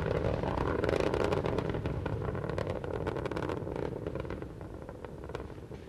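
Space Shuttle Endeavour's three liquid-fuel main engines during launch, a loud, dense broadband roar with crackling texture that slowly eases in level, with no talk.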